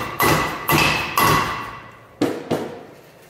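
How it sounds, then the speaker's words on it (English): A hammer striking a part on a Jeep Wrangler JK Rubicon Dana 44 axle, five loud metallic whacks with ringing decay, three in quick succession, then a pause and two more. "So we give it a couple whacks."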